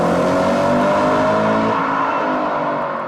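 An RS4 engine with its stock series exhaust revs loud and close in a sustained, droning roar that slowly drops in pitch and fades slightly toward the end, with no talk.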